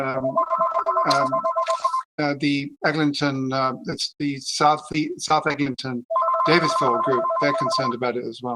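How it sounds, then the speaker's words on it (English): A mobile phone rings during a council meeting, its bright warbling ringtone repeating in two long bursts while a person keeps talking over and between the rings. "Sorry, that's my phone going off."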